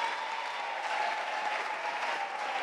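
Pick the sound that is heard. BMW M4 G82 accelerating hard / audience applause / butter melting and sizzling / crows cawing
audience applause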